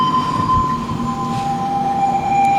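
A subway train rumbles past loudly and steadily, with a thin metallic whine from the wheels running over the roar.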